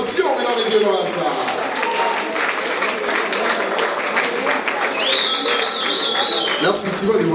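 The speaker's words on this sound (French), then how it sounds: "Tu reçois un standing ovation" A standing ovation for a singer at a semi-final of a televised singing competition, with sustained dense clapping from a full hall and a few whistles and cheers, as a host talks over the crowd.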